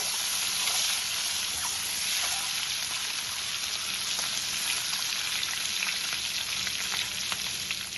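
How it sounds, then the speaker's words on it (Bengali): Boiled eggs fry golden brown in hot oil for egg korma, producing an even, dense crackling sizzle close up that stays steady throughout with no one speaking. "ডিমগুলো গোল্ডেন ব্রাউন করে ভাজা হয়ে গেছে।"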